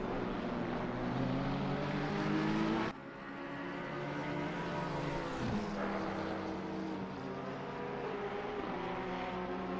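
GT race cars, a Ferrari and a Porsche, scream past at Kyalami in Assetto Corsa Competizione, their high engine whines rising and falling with gear changes as they battle closely, loud and continuous.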